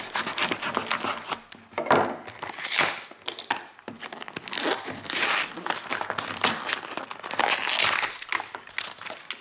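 A knife slices and tears open cardboard and plastic packaging for a gear box, a continuous rough crinkling and scraping with sharp cuts, close and loud, with no talking.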